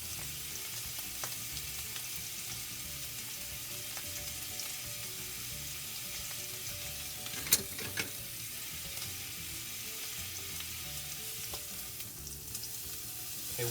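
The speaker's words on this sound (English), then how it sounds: "once you get some color on that fat, you can go ahead and lay them down, and we're going to get a sear on one side." Fatty edges of pork chops sear in a hot pan, producing a steady, close sizzle and crackle with a couple of sharper pops partway through, and no talking.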